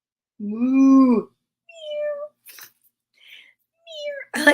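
A voice imitates a cat, giving one long drawn-out meow followed by a few shorter mewing calls with pauses between, close and clear, and a brief breathy noise at the end.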